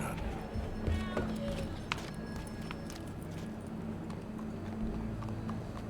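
Horse hooves clip-clop steadily through a Red Dead Redemption II game scene, a continuous trotting rhythm over a low ambient hum, with brief voices in the background.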